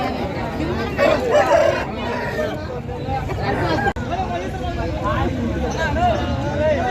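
An Aseel rooster crows amid a busy Saturday chicken market at Mydukur, standing out over steady crowd babble and talk nearby, with scattered clucks from other fowl around it.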